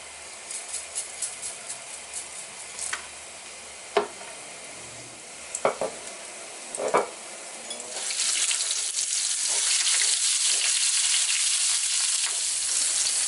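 Cumin and mustard seeds hit hot oil with a few sharp taps and clinks at first, then a loud, steady sizzle swells up and holds close and bright to the end.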